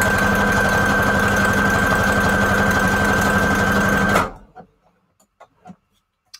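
A sewing machine stitches paper strips for a journal, a loud steady mechanical whir with a rapid needle rhythm that runs for about four seconds and then stops, followed by a few faint clicks and handling sounds.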